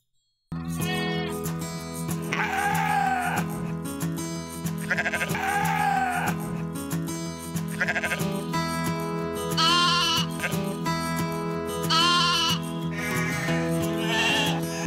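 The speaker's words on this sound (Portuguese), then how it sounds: "Cabra. Goat." A goat bleats repeatedly in loud, wavering cries, spaced out over a continuous bed of steady musical tones.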